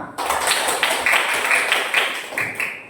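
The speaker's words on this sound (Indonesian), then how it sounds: "Ya, tepuk tangan." A classroom of students claps together at the teacher's call, a dense burst of many hands that starts abruptly and carries on steadily for a few seconds.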